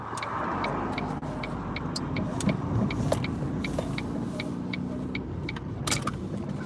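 A car driving along a road at night, a steady close engine and tyre rumble with faint intermittent ticking clicks layered over it.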